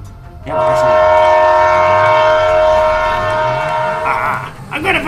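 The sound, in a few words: Thomas the train approaching in GTA 5 video game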